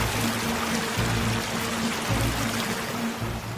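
Fast-flowing water in a rocky valley stream, a dense, continuous rushing wash that stays loud and steady throughout with no voices.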